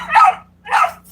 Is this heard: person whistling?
no